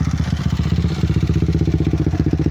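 A 257cc motorcycle engine, turned over with a Thai electric starter, runs in a steady, rapid, loud pulsing rhythm close by.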